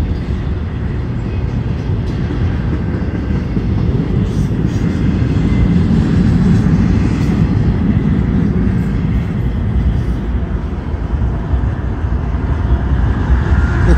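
A northbound CSX intermodal freight train rolls past with two lead locomotives and a mid-train distributed power unit, a loud, steady roar of engines and rumbling wagons sustained throughout at close range.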